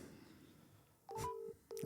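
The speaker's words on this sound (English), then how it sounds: "Kendy ringing Catherine" Telephone keypad tones as a number is dialed, two distinct beeps separated by a pause, clear and fairly loud in an otherwise quiet room.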